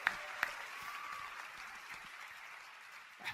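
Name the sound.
audience applause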